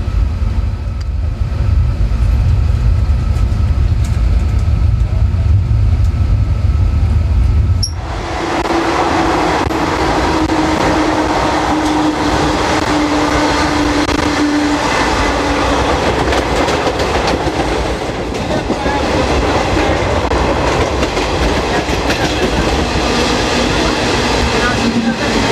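The Garib Rath Express between Mumbai and Jabalpur runs out from Igatpuri, a loud continuous onboard roar of wheels and rails with rattling carriage noise throughout and a steady tone partway.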